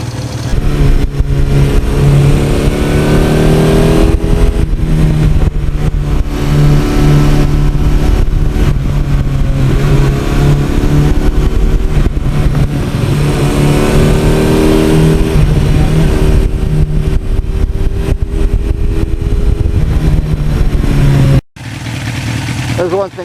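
1982 Suzuki GS1100E motorcycle engine roaring while riding, a loud continuous drone with rising and falling revs and rushing wind, steady and close until it cuts off briefly near the end.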